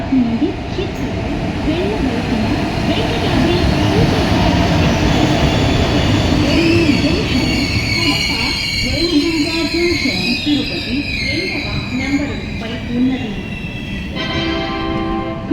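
Venkatadri Superfast Express with LHB coaches rolling into Kurnool City station, a continuous loud rumble of wheels and carriages with squealing tones, under a station public-address announcement.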